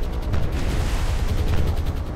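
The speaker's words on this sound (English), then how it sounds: "Ooh, close anti-aircraft fire explosions." Anti-aircraft fire bursting in the naval combat game War on the Sea during an air attack on a convoy, a continuous rumbling barrage of close, heavy booms and crackling blasts with no clear gaps.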